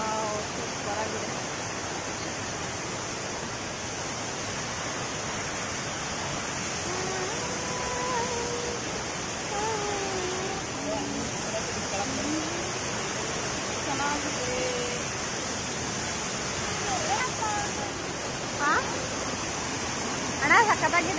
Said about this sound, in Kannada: ನೀರು ಮಳೆಗಾಲದಿಂದ ನೀರು ತುಂಬ ಸುರಿತಿದೆ, ಸುತ್ತ ನೀರು ಬರ್ತಿದೆ.